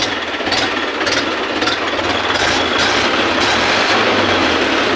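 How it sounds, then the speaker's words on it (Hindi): A farm tractor's engine starts and settles into a loud, steady, close-up running drone with rapid mechanical clatter throughout, with no talking. "ट्रैक्टर देखो ट्रैक्टर इसको स्टार्ट कर दिया मैं"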